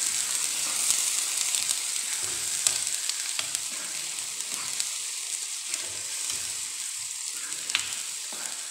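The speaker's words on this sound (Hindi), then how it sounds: "इसलिए हमें प्याज को अच्छे से भूनना है।" Ground onion paste frying in a pan for karela (bitter gourd) curry, giving a steady close hiss and sizzle throughout with scattered crackles and soft stirring scrapes.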